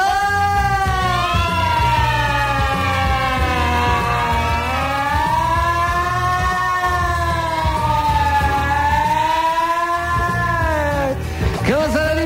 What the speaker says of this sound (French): On fait les sirènes, bien sûr.